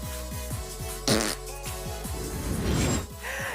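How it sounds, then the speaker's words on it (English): A comic fart noise plays as a sound effect at the opening of a college football studio show. It is a short, loud burst near the one-second mark, over a steady musical background. "You know it's a Monday when you're starting College Football Live off with a fart noise."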